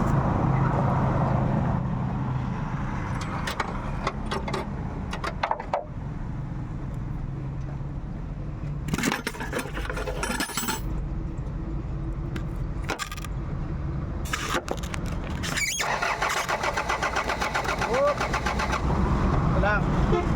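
A struggling diesel engine that keeps stalling on an uphill climb cranks and runs roughly, its low rumble cutting in and out with clanks and metallic rattles, while people talk nearby.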